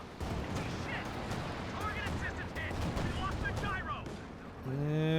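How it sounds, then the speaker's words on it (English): A large tank battle in a World War II strategy game roars with continuous dense gunfire, machine-gun bursts and booming explosions throughout, with a brief voice near the end. "Big tank battle here into the middle."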